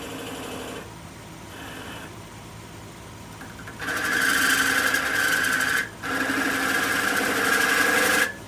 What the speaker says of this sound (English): I'm going to use my spindle gouge again just to cut this off as low as I can.